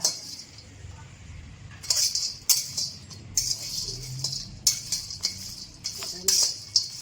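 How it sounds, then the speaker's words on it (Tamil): Ingredients being dry roasted without oil in an iron kadai for a homemade malt powder, with intermittent bright scraping and clinking bursts of a spatula against the metal, fairly close, over a low background hum. "இரும்பு கடாய் பாருங்கள், இது எல்லாத்தையும் போட்டு நம்ம இதில் வறுத்துக்கலாம்."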